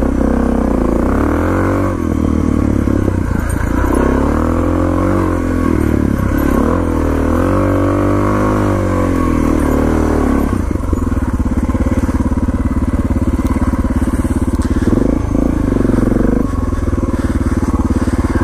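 A Suzuki DR650 motorcycle climbs a hill in the rain, its engine loud and close with steady revving that rises and falls as it labors upward, over a constant rough rumble.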